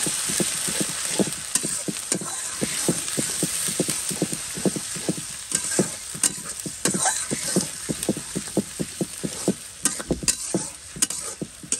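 Onion with ginger and garlic frying in a pan, a loud steady sizzle broken by regular scraping stirs of a spatula, close and alone without talk.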